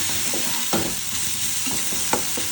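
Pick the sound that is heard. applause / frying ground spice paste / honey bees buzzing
frying ground spice paste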